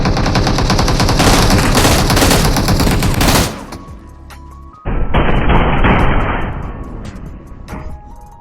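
Loud, dense rapid-fire gunfire from PUBG Mobile, followed by a quieter rumble and then a sharp burst of shots that fades out.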